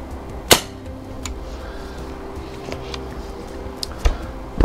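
An FX Wildcat MK3 air rifle fires a pellet with one sharp, close crack, followed later by fainter clicks and knocks over a low background hum.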